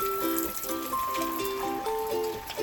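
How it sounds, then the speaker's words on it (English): Water runs and trickles as a bamboo body scrub is rinsed off skin, a soft close stream with faint tonal ringing from the flow, steady throughout. "now I'm just going to rinse it off"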